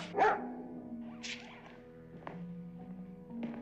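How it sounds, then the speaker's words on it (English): A dog gives a single near bark at the start, followed by scattered footsteps and thuds in a quiet indoor scene. "Longstreet, make your dog behave or I'll put a bullet in him."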